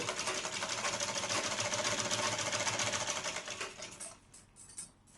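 A sewing machine runs fast and steady, stitching old hand-worked saree cloth along a marked line, its close mechanical whir continuing for several seconds before it slows and stops near the end.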